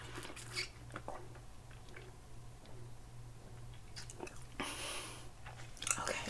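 Gum chewed close to the mic in a quiet ASMR setting, soft wet smacks and squishy bites coming in irregular bursts over a low steady hum.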